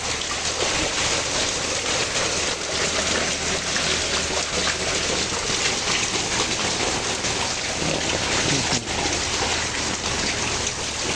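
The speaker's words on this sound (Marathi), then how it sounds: "3 वाजल्यापासून लागतोय फक्त पाऊस." Steady rain pours down without a break during flooding in Goregaon, Mumbai, a dense, even hiss of water filling the whole scene with no voices.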